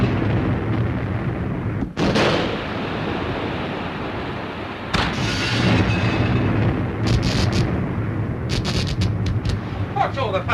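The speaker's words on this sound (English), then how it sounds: "It's hard to tell with these depth charges." Depth charges detonate outside a wartime submarine, heard from within the hull as several deep, muffled booms rolling over a constant low rumble.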